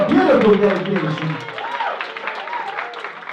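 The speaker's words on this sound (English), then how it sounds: "Ladies and gentlemen, let's give a big round of applause." Wedding guests at a country club reception applaud briefly, a soft patter of clapping beneath a voice that speaks over it at the start and then fades.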